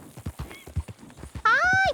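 Horse hooves clop in steady, evenly spaced beats in Red Dead Redemption 2, close and fairly loud, before a horse gives a sharp whinny near the end.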